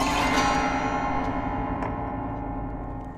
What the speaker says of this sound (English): Looks like this, and the strings are completely out of tune.